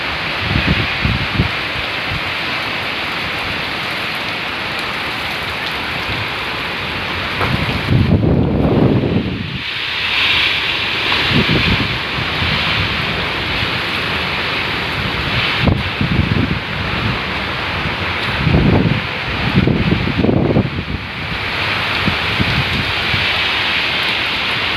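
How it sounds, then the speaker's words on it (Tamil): Heavy rain pouring down over a lake in Bangalore, heard as a steady, dense roar of rain and wind with occasional stronger gusts and a low rumble of water, continuous and close, without speech. "Oh my god, amazing. What a rain, yeah."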